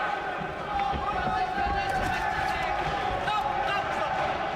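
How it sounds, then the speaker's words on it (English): Boxing arena crowd celebrating near the end of a bout: a dense, steady roar of cheering and hubbub that holds at an even level throughout, with a commentator's voice running over it. "Crowd's already celebrating."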